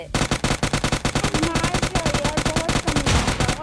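Rapid automatic gunfire in the mobile game PUBG Mobile Lite, a long fast burst of evenly spaced, loud shots fired in sequence with barely any pause, faint voice traces underneath.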